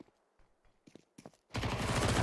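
AK rifle fire in Counter-Strike, a loud sustained automatic burst bursting in after a second and a half of soft scattered in-game clicks and footsteps.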